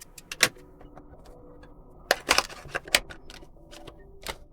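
Cutting through the seal on the box of an ESR black MagSafe case for AirPods Pro 3: a few sharp, close scratchy cuts and clicks, loudest in two bursts, over quiet handling noise and light rustling.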